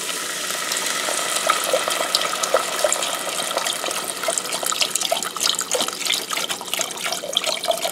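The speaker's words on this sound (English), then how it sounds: "So now, we're going to add our beef broth." Beef broth is poured into a pot of cooking onions for French onion soup, making a steady, close splashing and trickling stream that runs evenly throughout without talk.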